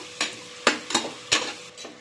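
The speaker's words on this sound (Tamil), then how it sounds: "கொஞ்சம் வெங்காயம் வதங்கிடுச்சு." Onions sautéing in a pan for a Pannai keerai biriyani give off a soft sizzle broken by four or five close scraping stirs of a spoon, with no voices.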